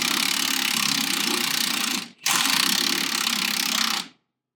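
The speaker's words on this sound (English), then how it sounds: "let's take the bottom bolt off." Ratchet wrench loosening the lower shock absorber bolt during a brake and shock job, a loud continuous rapid clicking that runs for about two seconds, breaks briefly, then resumes for nearly two more seconds before stopping.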